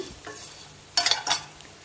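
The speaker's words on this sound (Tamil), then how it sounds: "மொறுன்னு வர வரைக்கும் நல்லா வதக்கிக்கோங்க." A short burst of sizzling and stirring as potatoes sauté in oil in a pan, brief crackles rising then fading after a quiet start.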